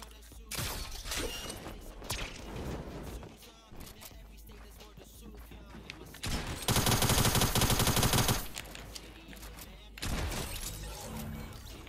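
Gunfire in Fortnite played on Nintendo Switch, with rapid bursts of shots, one dense continuous volley near the middle, all loud and mixed under excited talk.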